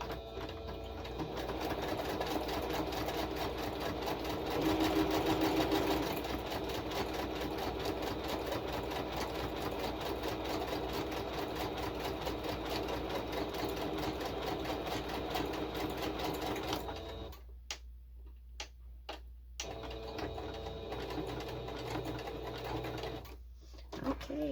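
Sewing machine stitching shaker journal cards, a steady whirring motor run with a fast needle chatter lasting about seventeen seconds before stopping, followed by a few short bursts and quieter handling.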